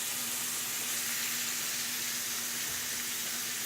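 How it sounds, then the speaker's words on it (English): Chicken fajitas with seasoning sizzling in a hot skillet, a steady hissing spatter that stays even throughout at a low level, with no talking. "It just gives it a good sizzle when you first put it in, because it's hot."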